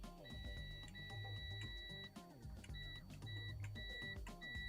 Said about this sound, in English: Like this thing's beeping as soon as I touch this.